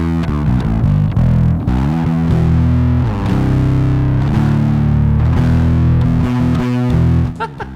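Bass guitar played through a Boss ODB-3 Bass Overdrive pedal with the level cranked and the effect fully wet, giving a sustained distorted riff of held and shifting notes, loud and continuous to the end.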